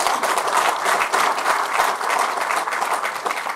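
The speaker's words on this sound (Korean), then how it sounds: "박수!" Applause from the audience at a Saenuri Party lawmakers' meeting fills the room, with steady, dense clapping from many hands throughout.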